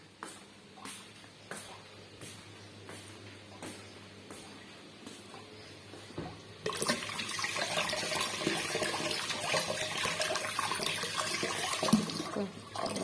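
Tap water runs for washing in a home kitchen sink, starting as faint dribbles and drips, then turning into a loud, steady rushing stream about halfway through and continuing alone.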